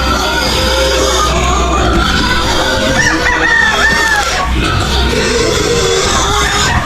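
Hens and chickens cluck in a busy backyard flock, with overlapping clucks and a rooster crowing partway through, all close and loud over steady background noise.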